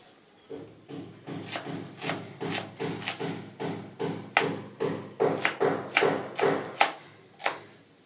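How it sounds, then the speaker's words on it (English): Knife finely slicing onions on a cutting board: a steady series of about fifteen close, crisp chops and thuds at an even rhythm, with no talking. "just like slicing of onions, I'll do it"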